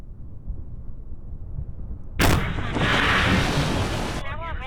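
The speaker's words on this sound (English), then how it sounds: "3 minutes into mission and the rocket explodes." A rocket explodes in Kerbal Space Program: steady low engine rumble breaks into a sudden loud, broad blast that roars on for about two seconds before cutting off.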